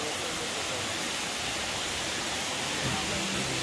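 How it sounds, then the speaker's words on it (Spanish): Salto de Agua Blanca waterfall in Constanza pours with a loud, steady broadband roar, close and unbroken, with a faint voice briefly heard near the end. "Por eso que le dicen el salto de agua blanca, porque el agua está blanquita."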